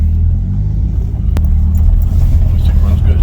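A Shelby GLHS car engine idles nearby with a steady, loud low rumble that holds evenly for a few seconds.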